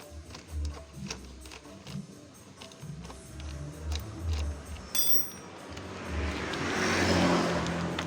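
An agricultural sprayer engine with a carburetor problem starts off quiet, with scattered mechanical ticks and clicks, then builds into a rising rev that swells over the last few seconds.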